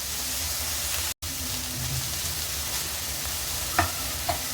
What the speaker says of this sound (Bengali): পেঁয়াজ, রসুন আর কাঁচামরিচগুলো আমি ভেজে নেব।